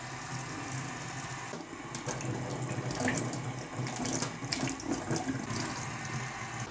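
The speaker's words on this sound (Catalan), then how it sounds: "els pebrots els passarem per aigua per treure-li bé les pepites" Running tap water pours steadily into a sink as oven-roasted peppers for escalivada are rinsed to wash out their seeds, a continuous close splashing rush with small surges.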